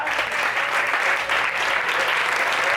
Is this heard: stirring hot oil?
no